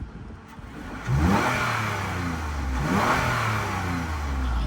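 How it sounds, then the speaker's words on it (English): A flood-damaged Lexus engine revs up twice from idle, rising and falling in pitch, close and fairly loud. "Let's give it a little rev."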